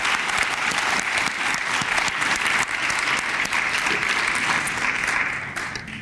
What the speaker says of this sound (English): I just want to give that a round of applause right here.